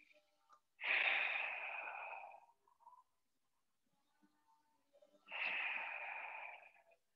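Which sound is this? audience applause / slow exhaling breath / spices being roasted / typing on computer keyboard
slow exhaling breath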